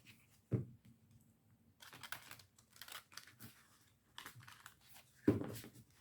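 A deck of oracle cards, Les Portes de l'Intuition, is shuffled by hand, giving close, quiet bursts of papery rustling and flicking, framed by two sharper taps as the deck is knocked square.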